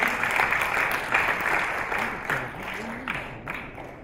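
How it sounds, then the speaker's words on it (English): Audience applause at a Million Dollar Round Table forum, dense clapping that gradually thins as a voice starts speaking over it. "Please give them a round of applause."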